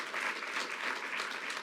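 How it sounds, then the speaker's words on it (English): Steady round of applause from a rally crowd for Frank Wu, dense and even throughout a short stretch with no voices on top. "Let's give Frank a round of applause."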